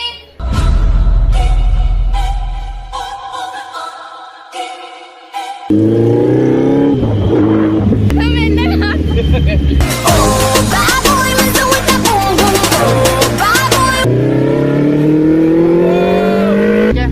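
A motor vehicle speeds along carrying passengers, its engine revving loudly and continuously with rising and falling pitch, accompanied by dense overlapping music-like tones.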